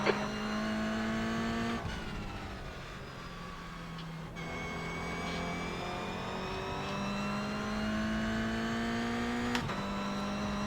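A race car engine in the iRacing sim at the Rudskogen circuit drones steadily at high revs, with pitch climbing through each gear and dropping sharply at the shifts, loud and continuous without talk.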